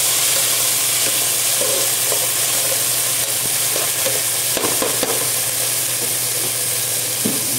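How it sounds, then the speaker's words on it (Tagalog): Mung beans sauté in a pan for a Filipino munggo dish, producing a continuous close sizzle and hiss with occasional stirring scrapes. "Igisayin natin para malasa at saka masarap."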